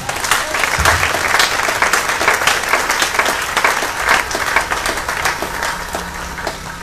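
A church congregation at a Sunday service applauds steadily, a dense, loud wash of many hands clapping that holds for several seconds before easing slightly, with murmured voices beneath.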